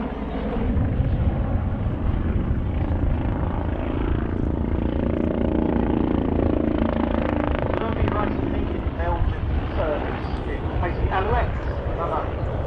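A historic helicopter flies over an air show, a steady broad rotor and engine rumble that swells and fades at moderate distance, with a commentator's voice speaking over it throughout.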